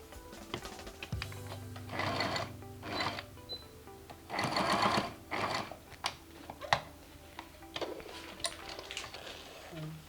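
A sewing machine stitches a notched shirt collar in short bursts with pauses between runs, the motor whirring up and stopping, with light handling clatter in between and no talk.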